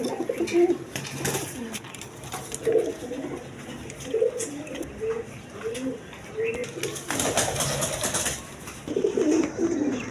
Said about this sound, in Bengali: এক পেয়ার রেড কালার গররা কবুতর মাদি দুটাই মাদি কবুতর